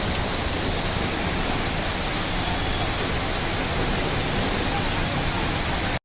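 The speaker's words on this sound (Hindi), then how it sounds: "जोरदार बिजलियों के दरमियान तेज बारिश शुरू हो गई" Heavy rain pouring down in Hyderabad during a thunderstorm, a dense, even hiss of rainfall that stays loud and unbroken throughout, with no distinct thunderclap standing out.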